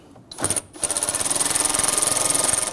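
On a 2017–2020 Hyundai Elantra 2.0L, a power tool runs a radiator bolt in. A short burst comes first, then a steady close rattling whir that carries to the end.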